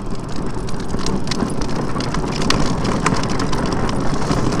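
A Razor drift trike rolls downhill on rough ground, giving a steady rumbling, gritty wheel roar with scattered crunching ticks, loud and close throughout.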